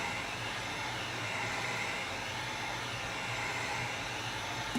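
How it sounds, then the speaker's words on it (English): A heat gun blows steadily over an epoxy-coated custom tumbler cup, a continuous close, loud airy roar that holds unchanged throughout without talk. "Hopefully you can hear me over the heat gun."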